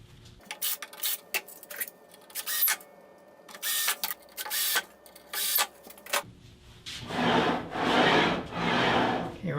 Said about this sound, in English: now I'm going to cut some boards between 80 and 100 thousandths inch thick